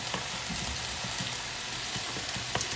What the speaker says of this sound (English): Can't go wrong with the garlic, right? And I'm just gonna stir that just to kind of let that cook just for a minute.